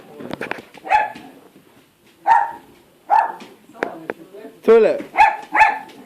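A pet dog barks in a series of short yips and barks indoors, several sharp bursts spaced unevenly, with a person talking between them.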